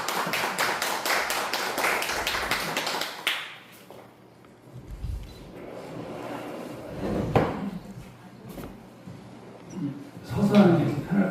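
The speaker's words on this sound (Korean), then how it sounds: "박수 부탁드립니다." Audience applause at a Korean author's book talk: a brisk burst of clapping for about three seconds that quickly dies away into low murmuring and talk.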